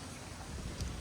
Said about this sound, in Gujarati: પવન એટલો બધો વાય છે